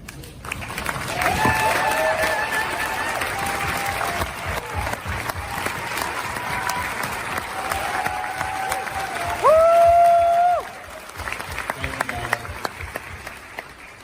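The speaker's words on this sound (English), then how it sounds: "so we can give you a round of applause" A standing audience at a film presentation gives a steady round of applause, a moderate wash of clapping that continues throughout while a sustained tone rises and falls in the background.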